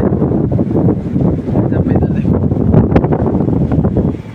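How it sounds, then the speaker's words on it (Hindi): Strong wind outdoors outside a gym buffets the microphone with loud, continuous low rumbling and roaring gusts that never let up. "यहाँ पे बहुत हवा चल रही है।"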